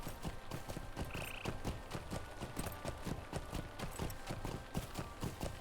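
Steady, rhythmic clip-clop of horse hooves on a travel ride to the Lone Lands in the Lord of the Rings Online video game, continuous and fairly close, with faint game ambience behind.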